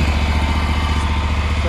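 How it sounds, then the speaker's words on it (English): A farm lawn mower's engine runs close and loud, holding a steady, even drone for the whole moment without any change in pitch. "Gas in this mower"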